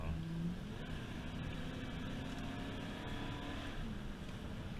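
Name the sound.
1994 Ford F250 truck decelerating after cruise control turned off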